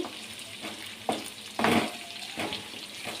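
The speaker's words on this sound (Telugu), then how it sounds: "ఒకసారి పీసెస్ మొత్తాన్ని కలుపుకోవాలండి కందనకాయలు అయితే వేగినాయండి" Kandanakaya pieces fry in a pan over medium flame, a continuous hissing sizzle broken by several louder bursts as the spoon stirs and turns them.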